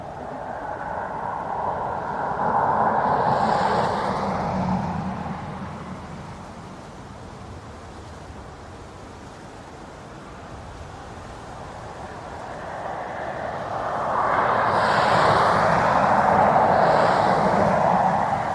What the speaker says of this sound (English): So this is a Ryanair 737 MAX 8 arriving from Malaga.